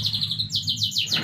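Canary chicks give a series of high, rapid chirps that repeat in quick bursts, close and fairly soft, with no talking.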